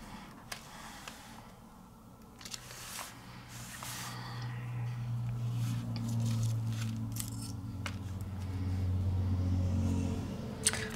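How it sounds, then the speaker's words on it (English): Road traffic with tractors passing: a low engine drone swells and fades as vehicles go by, with faint clicks and snips from scissors close by and no speech. "Sorry about the traffic noises."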